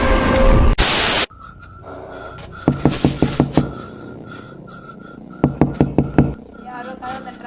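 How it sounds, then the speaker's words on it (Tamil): Two bursts of rapid knocking on a wooden door, each a quick series of about five sharp raps, with a pause between the sets, close and loud over a quiet background. "யாரோ கதவை தட்டுறாங்க."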